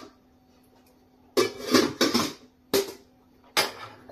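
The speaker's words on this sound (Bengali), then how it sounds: "এবার আমি ঢাকনাটা দিয়ে দিচ্ছি," A metal lid is set onto a cooking pan on a gas stove, giving a few sharp clanks and rattles in quick succession after a quiet stretch, close and fairly loud.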